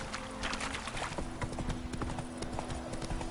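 Hooves of Roach the horse in The Witcher 3 clopping at a steady trot, close and continuous over a low game background hum.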